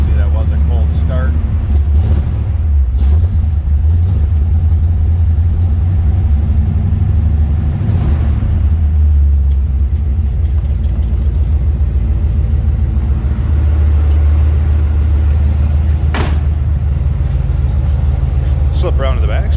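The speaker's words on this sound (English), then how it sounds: "That EFI starts up nicely. You can hear it's got a little rumble to it." A 1967 Chevrolet Malibu with a 350 EFI engine rumbling steadily after a cold start, a loud, constant low growl throughout with a few brief sharper bursts, under a voice.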